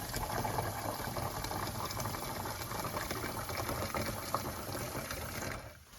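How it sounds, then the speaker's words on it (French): Tap water runs steadily into the removable water tank of a DeLonghi Magnifica S coffee machine, a continuous close splashing fill of mixed descaling solution, with no talk, easing off just before the end. "on va remplir d'eau du robinet jusqu'au trait, juste au-dessus"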